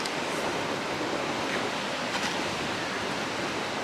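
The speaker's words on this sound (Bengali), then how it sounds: "এই ধারে বসে একটু সমুদ্রের গর্জন দেখি" Steady roaring ocean surf at a quiet beach, a broad continuous wash of breaking waves with no pauses, fairly close and even in loudness throughout.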